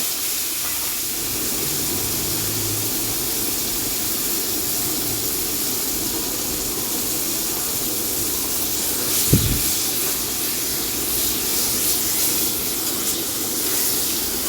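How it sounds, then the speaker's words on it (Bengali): Eggplant slices fry in a wok with a steady, loud sizzle and hiss that runs unbroken throughout, and a brief low knock partway through. "এবারে এই বেগুনগুলোকেও ভাজা করে নেব।"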